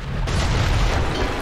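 A deep, booming blast hits suddenly and rumbles on with a heavy low roar, a cannon shot in Assassin's Creed 3 Remastered during the Battle of Monmouth.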